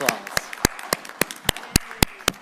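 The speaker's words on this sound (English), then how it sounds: "Give her a round of applause." At a Half Moon Bay city council meeting after an ordinance passes, a few hands clap in a slow, evenly spaced rhythm, about nine crisp, close claps in sparse succession.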